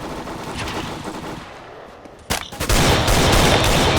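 Magnum sniper rifle fire in Counter-Strike: Global Offensive comes as a sudden loud blast midway, followed by a sustained, dense roar of gunfire filling the rest of the moment.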